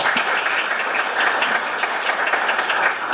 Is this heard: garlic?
no